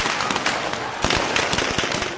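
Rapid bursts of gunfire from soldiers firing on protesters supporting Morsi in El Arish, northern Sinai, Egypt, crackle as sharp overlapping cracks throughout, loud and dense with no speech.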